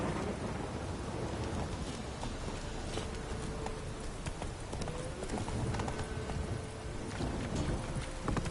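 Steady rain with distant rumbles of thunder in The Witcher 3 video game, mixed with the clip-clop of a horse's hooves throughout, a dense continuous wash at moderate level.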